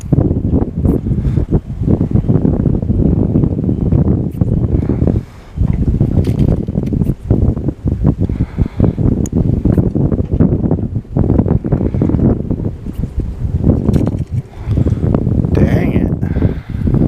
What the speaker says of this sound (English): this wind's blowing